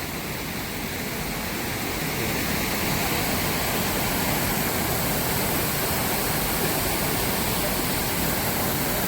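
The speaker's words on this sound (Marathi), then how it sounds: "धबधब्याचा जोर जबरदस्त जास्त आहे. आवाज तुम्ही ऐकू शकता" The powerful, foaming waterfall at Dhutpapeshwar, swollen after days of rain, roars in a thick, constant rush that fills the whole stretch at close range, with no speech.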